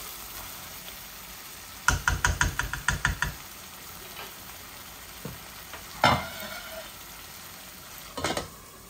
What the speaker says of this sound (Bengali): এটা নড়াচড়া করে এই যে শুধু নাড়বো, এগুলা কষা বুনা।